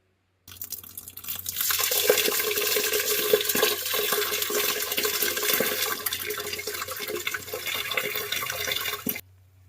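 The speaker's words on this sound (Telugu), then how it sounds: "సో ఫస్ట్ ఈ ఇంగ్రీడియంట్స్ అన్నీ కూడా నీట్గా వాటర్లో క్లీన్ చేసుకుందాం" Black gram and other ingredients being rinsed in water, a steady running, splashing wash that carries on for most of the stretch with no talking, then stops abruptly.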